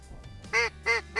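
Ducks quack in short nasal bursts, three clear calls in a row at moderate distance, heard during a freeze-up duck hunt in the Dakotas over quiet outdoor background.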